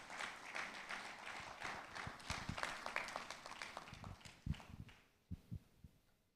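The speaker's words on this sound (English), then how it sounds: "Please let's welcome him with a hand of applause" A brief, quiet patter of audience clapping welcomes Dr. John Kuma at an SEC capital market workshop, thin and sparse at first, then fading into a few isolated claps toward the end.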